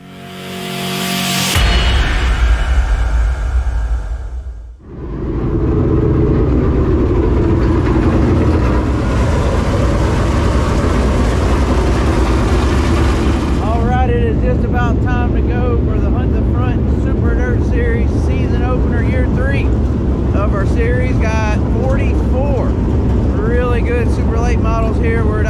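Race cars at the small I-75 Raceway in Tennessee, a short track set inside a former larger track, roar loudly and continuously at close range, with engine notes rising and wavering in the later part.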